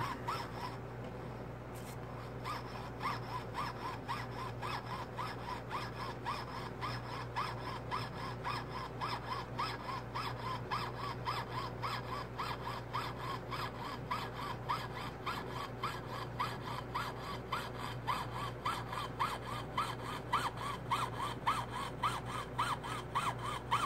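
A jeweler's saw blade cuts through a silver quarter, making a rapid, steady rasping stroke that repeats evenly and close up for the whole stretch, over a constant low hum.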